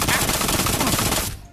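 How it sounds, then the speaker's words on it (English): Silenced submachine gun in Espire 1 firing a steady, rapid burst of muffled suppressed shots, loud and continuous for over a second before cutting off abruptly. "I used the submachine gun and it's got a silencer"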